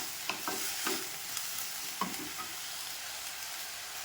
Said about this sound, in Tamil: தக்காளி போட்டு நல்லா வதக்குவோம்